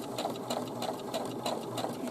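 A sewing machine stitching a curved center-front fly seam on shorts or pajama pants, an even mechanical whir with regular rhythmic pulses of the needle, close and steady.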